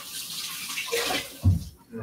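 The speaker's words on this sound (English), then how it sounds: "And just rinse off my hands real quick" Hands are rinsed quickly under a running tap in a home kitchen, giving a short, close splash of flowing water that swells briefly before cutting off.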